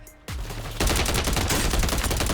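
Rapid automatic gunfire from a Thai-patterned gun in Call of Duty kicks in after a brief quiet start, then becomes a loud, sustained burst of closely spaced shots.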